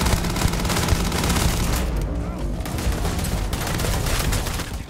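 Rapid sustained gunfire from a Starfield firefight, a dense continuous fusillade of automatic shots with booming low end, loud and steady throughout.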